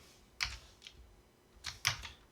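Computer keyboard being typed on while entering a Linux command, a few quiet scattered keystrokes in two small clusters, close and soft with no talking.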